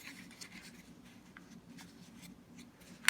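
Paper is folded and pressed down by hand, making faint, close rustling and soft scraping with a few light taps, continuous and quiet, ending in a sharp pat.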